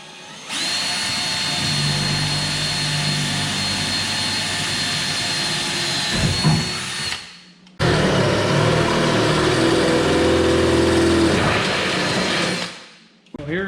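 A power drill runs loud and steady for several seconds, stops briefly, then whirs again in a second long burst before cutting off.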